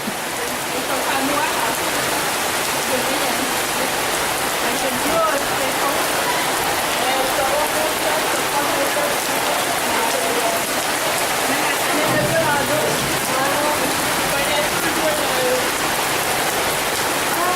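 Heavy thunderstorm rain pours steadily in Haiti, a constant dense hiss of drops striking surfaces with no letup, and voices speak faintly beneath the downpour.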